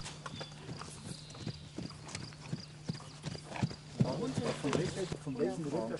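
Arabian endurance horses' hooves clip-clopping in a steady rhythm on the ground during a long-distance ride, close and distinct, with a horse snorting and a voice talking over the latter part.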